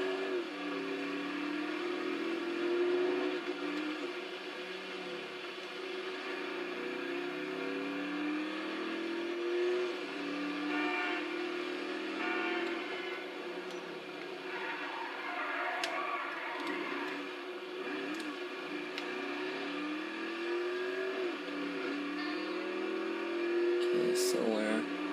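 A car engine in the GTA Online video game starts and drives, its revving pitch rising and falling continuously at a steady, moderate loudness for the whole stretch.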